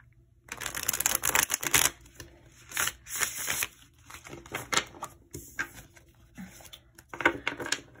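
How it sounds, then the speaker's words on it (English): Tarot cards being shuffled in quick riffling bursts with soft taps and pauses between, close and crisp. "I'll put that back and then we're gonna shuffle it one more time."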